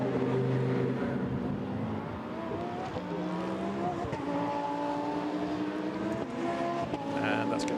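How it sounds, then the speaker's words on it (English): A KTM GT2 race car rolls down the pit lane at Monza during a GT2 series race, its engine a steady close drone with shifting tone, joined by other engine noise while a commentator talks over it. "So the KTM down the pit road."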